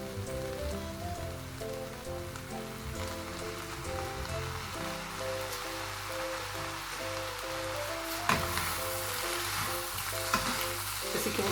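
Soy sauce sizzles on stir-fried prawn noodles in a constant crackling fry, with sharp louder bursts near the end as the pan is stirred, while a faint tonal hum runs underneath.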